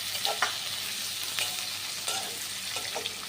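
Chopped tomato frying in hot oil with spices: a steady soft sizzle with scattered scraping stir strokes and small pops, close by, with no voices.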